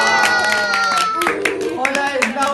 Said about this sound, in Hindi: तालियां बजाओ खाला के लिए